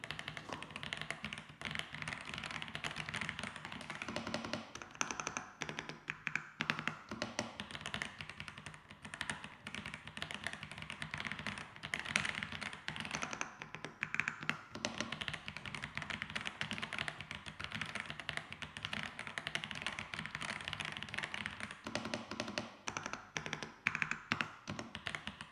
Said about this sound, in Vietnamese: nghe một đoạn sound test trước về con hàng này nhé